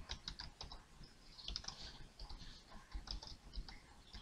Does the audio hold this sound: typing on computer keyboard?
yes